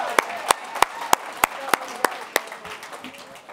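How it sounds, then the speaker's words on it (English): Audience applause at a youth civic challenge event in Louisville, with sharp, evenly spaced loud claps over a softer crowd patter that fades toward the end. "Let's give another round of applause for Jeffersontown."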